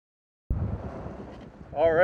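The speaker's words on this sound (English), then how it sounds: "Nice winds out of the east, blowing about 15 knots. Beautiful sailing." Steady east wind of about 15 knots rushes past on an old sailboat after a sudden start, a broad low roar with a faint voice-like tone toward the end.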